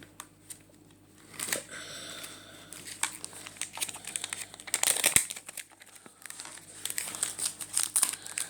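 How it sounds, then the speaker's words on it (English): Plastic wrap crinkles and tears as it is peeled off a UK-model Amazon Echo, in close, irregular bursts of rustling and crackling. "I'll just go ahead and take the plastic off this now"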